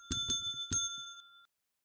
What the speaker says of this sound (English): I hear a bell.